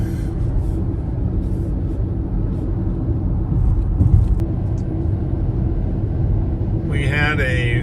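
A Ford Mustang Mach-E electric car cruises on Interstate 85, heard from inside as a steady low road and tire rumble, with a navigation voice briefly speaking near the end.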